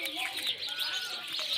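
Birds call outdoors in a short burst of chirps and coos, moderately close and continuous over a faint background.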